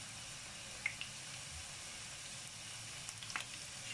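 Meatballs (köfte) sizzling in a frying pan as more are added, a soft, steady crackling hiss with a few small pops and taps.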